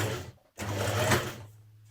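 A sewing machine stitches the back seam of a jersey dress, running steadily in two bursts split by a short pause, close and fairly loud with its low motor hum throughout.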